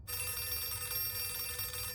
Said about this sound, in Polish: No gdzie dzwoni ten telefon, no?